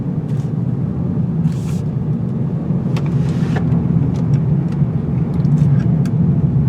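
A 2019 Hyundai Elantra Sport Turbo's engine drones steadily from inside the cabin during a tight turn, a constant low rumble with faint clicks and squeaks as it drives.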